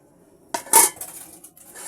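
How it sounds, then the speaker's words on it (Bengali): Metal lid set onto a pot of simmering curry: a brief clank and ringing clink up close, then quiet settling, no talk. "আমি আর একটু ঝোল দিয়ে তরকারিটাকে ঢেকে দেব।"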